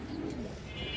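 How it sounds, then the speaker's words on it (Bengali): Silver pigeons of a big-headed breed give a short soft coo, close by and fairly quiet, lasting about a second with no voices over it. "এগুলো বড় মাথার কবুতর দর্শক।"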